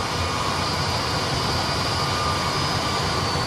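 An airliner's jet engines spool up with thrust on the runway in a flight simulator, a steady, even roar with a broad rushing hiss and a low rumble, continuous and unbroken.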